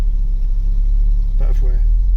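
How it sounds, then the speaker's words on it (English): A 2.0 eight-valve engine with a noisy lifter idles close by, giving a steady low rumble with a faint top-end tick and a brief voice-like burst partway through. "it's now developed a rattle for the top end. You can hear it right there"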